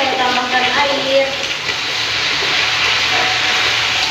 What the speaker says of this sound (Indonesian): Sekarang saya tambahkan air.